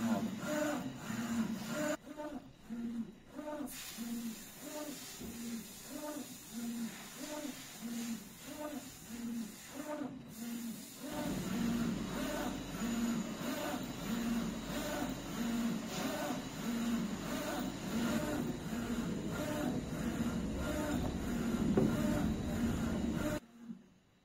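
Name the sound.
dual head UV DTF printer printing phone case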